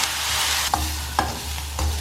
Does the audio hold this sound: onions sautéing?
yes